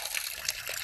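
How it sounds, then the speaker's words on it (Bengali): Sliced potatoes for chips being rinsed in water, a short close splashing and trickling burst, steady and moderately quiet. "ভালো করে জল বদলে বদলে ধুয়ে নিতে হবে চিপসগুলো"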